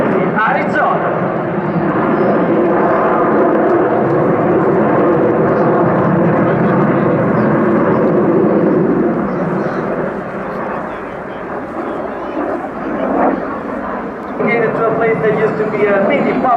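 Frecce Tricolori aerobatic jets roaring overhead at the Royal International Air Tattoo air show, a loud sustained jet rumble that eases and swells, with a commentator talking over it.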